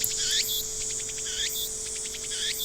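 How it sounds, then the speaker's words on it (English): Cicadas chirp in a video game scene, repeating shrill, sweeping calls in three regular bursts over a faint steady hum, with no voices. "The only sound is the chirping of cicadas"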